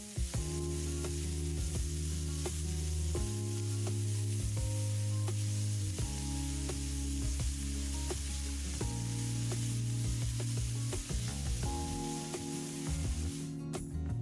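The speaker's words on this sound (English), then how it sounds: "add the sliced onions and cook them until they become soft and translucent" Sliced onions fry in hot oil for an old Italian casserole, a steady soft sizzle running throughout beneath louder sustained background music.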